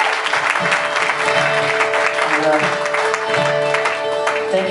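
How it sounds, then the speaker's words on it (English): A concert audience at Hugh's Room claps steadily and loudly for a few seconds after a live folk performance, with a faint musical tone sustained underneath. "give her an applause"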